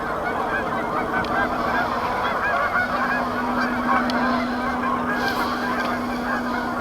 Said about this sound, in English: The geese at closer range.